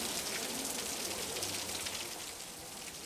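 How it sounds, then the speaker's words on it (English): Rain pours on a collective farm, a steady broadband hiss of drops hitting surfaces, close and even, easing slightly toward the end, with no talking. "It's raining and everyone has gone to seek shelter"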